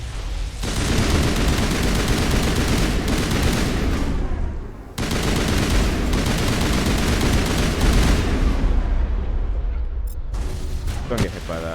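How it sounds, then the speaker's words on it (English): Mass Effect game combat on Insanity difficulty: a dense, continuous roar of gunfire and blasts, including the Carnage shotgun ability, runs loud and steady with a brief dip midway, voices talking under the battle. "That's Carnage. That's a shotgun ability."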